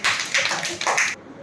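Primary school children clapping in a classroom, a brief, quick burst of close claps in a few rapid waves that cuts off abruptly into quiet.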